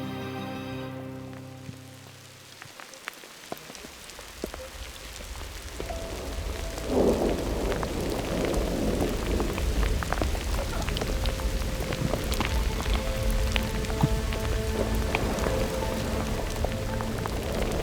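Steady rain patters on surfaces during a thunderstorm at a rock-climbing spot, with low rolls of thunder and occasional close drips, after a short musical fade at the start.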